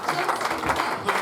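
Congregation in a French-language revival church service clapping hands together, a steady dense patter of many hands with voices mixed in throughout.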